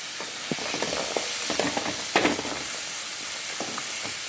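Peanuts added to a pan of sautéed onion and green chilli paste while making sundal, giving a steady close hiss and sizzle with scattered small crackles and a few stirring clicks throughout, no voices.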